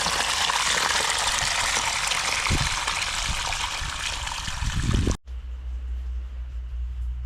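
Heavy rainwater pours into a house through a drain hole during a downpour, a loud close steady gushing stream that stops abruptly and leaves only a low hum.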